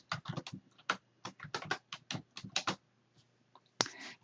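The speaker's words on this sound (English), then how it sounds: "I could add some text and click somewhere and start typing." Typing on a computer keyboard, a quick run of distinct clicking keystrokes in irregular bursts, fairly close and alone, ending with one sharper tap after a short pause.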